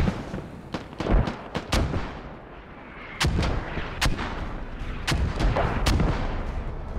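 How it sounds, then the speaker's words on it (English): Mortar launches in the video game Squad: a string of sharp, heavy booms, some close together and some spaced apart, over a constant roar of battlefield noise. No voices. "Mortars being launched directly over here."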